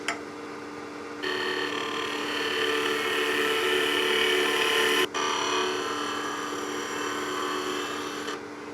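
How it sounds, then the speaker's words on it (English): Wood blank spinning on a lathe for a salt and pepper mill, with a steady tonal whir and scraping of a tool skimming the surface, one brief break midway. "Just try and straighten this blank out just a little bit."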